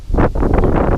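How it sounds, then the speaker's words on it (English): A strong gust of wind buffets a GoPro microphone outdoors near trees, producing loud, continuous low rumbling and flapping that swells and dips for about a second. "There we go, there's a good gust of wind."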